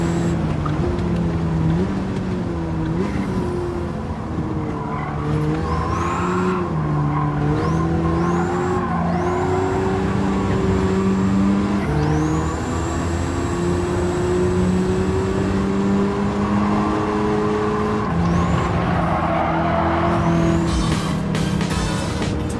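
Race car engines whine and shift pitch in a racing video game as a car spins out, with skidding tire squeal and several passing cars layered over a steady engine drone.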